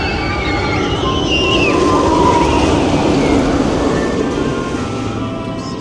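A steady, loud rumble of a roller coaster train rolling past with rattling and a rising roar, continuous for several seconds, with no talking.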